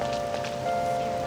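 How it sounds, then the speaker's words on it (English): Steady rain patters on surfaces in the Persona 5 Royal video game, a soft continuous hiss in an outdoor Kichijoji scene, with faint tonal game ambience underneath. "Just had to rain."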